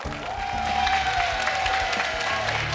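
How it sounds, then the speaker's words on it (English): Crowd applause and cheering fill an MMA arena after a fight win in a Mexico vs Japan event: a dense, steady roar of clapping and voices that holds at full strength for about three seconds. "Applause, applause."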